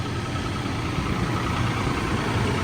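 A Toyota FJ Cruiser engine idles close by, a steady, even rumble with no talk over it, holding a constant level throughout.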